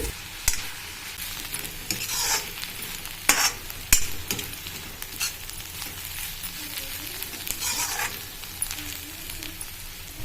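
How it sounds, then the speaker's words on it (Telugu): A paste of ivy gourd, coconut and green chili is stirred in a pan, giving steady soft scraping and sizzling with a few louder clatters of the spoon, and no voices. "ఇలా పేస్ట్ అంతా మొత్తం పచ్చివాసన పోయే వరకు కలుపుతూ ఉండాలండి"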